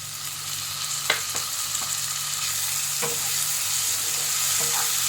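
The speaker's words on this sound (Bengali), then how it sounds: "টমেটোটা দিয়ে একটু ভালো করে কষিয়ে নিতে হবে" A large tomato sizzles in hot oil in a pan while being stirred for Kashmiri rista mutton ball curry, with steady frying hiss and occasional scraping clicks of the spatula.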